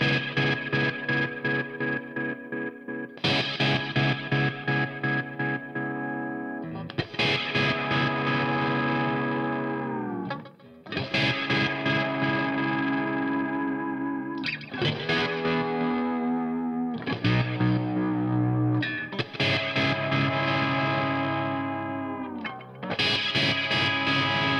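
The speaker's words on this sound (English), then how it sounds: "the volume I'm hitting my guitar with is determining how deep the modulation is on the LFO" Electric guitar played through a Seymour Duncan Fooz analog fuzz synthesizer, heavy fuzzy chords whose LFO modulation depth swells with picking strength, played in repeated bursts with short gaps, loud and alone.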